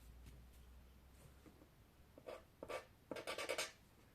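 White pencil writing on a craft surface meant for fabric, a few soft scratchy strokes growing into quick close rubbing bursts toward the end, in a quiet room.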